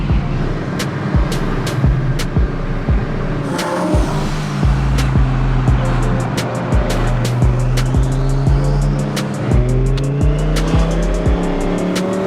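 A loud twin-turbo Audi R8 engine revs and roars up through the gears nearby on city streets, rising and falling pitch with repeated gear shifts and faint tire squeal.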